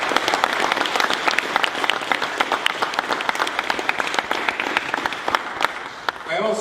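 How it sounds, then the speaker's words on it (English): A roomful of people at a scholarship event breaks into applause, brisk close-by claps standing out sharply over a full wash of clapping that stays strong before tapering at the end. "I want to give a shout out and a round of applause to Hunter"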